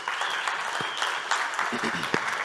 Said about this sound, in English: We clap for the team, clap for them too, please.